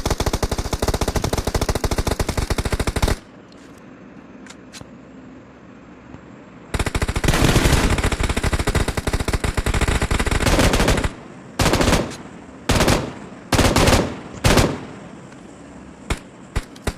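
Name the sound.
50 cal machine gun firing nonstop in PUBG Mobile video game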